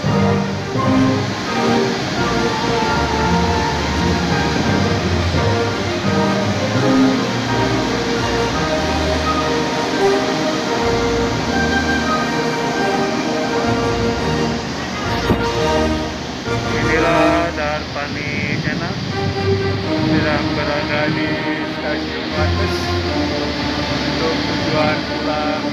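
A service train pulls to a stop at Wates station, a loud continuous rumble of wheels and carriages with squealing brake tones later on, and someone speaking over the noise.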